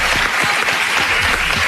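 Studio audience applauding for Pippo Baudo on an Italian radio show, a dense steady clapping that holds loud and close throughout the short stretch with no voices over it.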